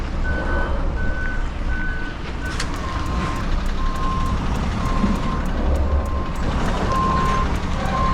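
A truck with a trailer idles and rumbles while maneuvering in reverse, its reversing alarm beeping in a steady repeating pattern that changes pitch partway through, loud and close.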